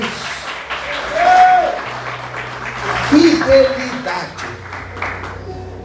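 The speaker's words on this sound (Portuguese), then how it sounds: "Aplauda a Jesus." A church congregation applauds for Jesus during a sermon on the parable of the good and bad servant, a busy wash of clapping mixed with sustained music tones, with a preacher's voice speaking over it.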